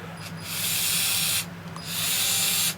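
Worx WX242 4V lithium-ion electric screwdriver running in two bursts, first one direction then the other, a steady high-pitched motor whine with a short pause between runs, close and alone.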